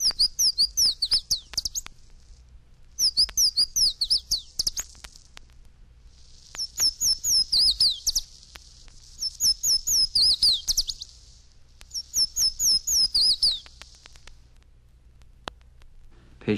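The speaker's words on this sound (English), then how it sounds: "205, Louisiana Water Thrush." Louisiana waterthrush song: several ringing phrases of clear slurred notes followed by a jumbled twittering tail, repeated about five times with pauses, near and loud, no speech.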